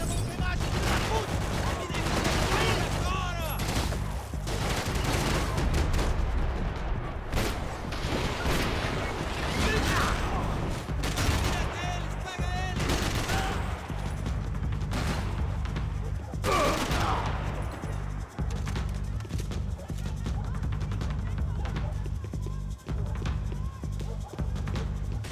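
Dense, sustained gunfire in Max Payne 3 in Brazil, with rapid sharp shots and bursts crackling nearly nonstop at close range for the full stretch.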